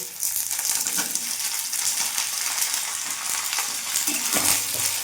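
Chopped okra goes into a pan of softened frying onions, giving a steady close sizzle with light stirring scrapes and small rattles, no talking.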